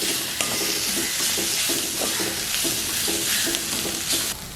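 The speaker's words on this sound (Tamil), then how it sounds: "இந்த இஞ்சி பூண்டு கலவையை போடுவோம். அதையும் போட்டு நல்லா கலந்து விடுவோம்." Ginger garlic mixture sautéing with onions for a wedding-style potato curry, stirred in a pan: steady close sizzling with a run of rhythmic spoon scrapes and taps, loud and unbroken, without speech.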